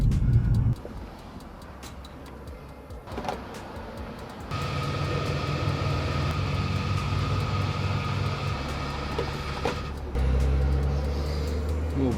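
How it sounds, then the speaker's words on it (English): A Subaru WRX rolls into a petrol station at low speed, its engine droning steadily with a deeper, louder stretch partway through before settling back, heard up close from inside the car with no talk. "I'm actually pulling in right now to get some more fuel because I am low."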